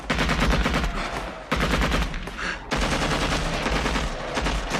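Sustained, dense automatic gunfire from a jungle hill battle in the 1987 war film Hamburger Hill, loud and continuous with rapid overlapping bursts and two brief lulls.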